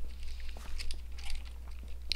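Soft chewing of non-crunchy food close to the mic, quiet repeated bites and mouth sounds over a steady low hum while someone plays a mining game.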